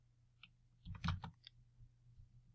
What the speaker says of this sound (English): Just going to type in random numbers